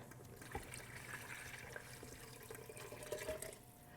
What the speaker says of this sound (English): And I'll get the water in now.